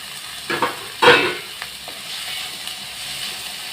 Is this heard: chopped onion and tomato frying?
yes